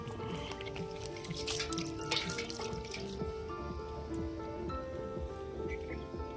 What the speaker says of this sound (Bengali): এবারে কাতলা মাছের মাথাগুলো ধুয়ে নেবো ভালো করে।